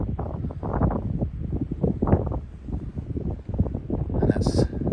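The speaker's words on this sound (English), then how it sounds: "It's really windy up the top" Strong wind buffets the microphone in loud, irregular gusts on a hilltop lookout at night, with a brief high chirp near the end.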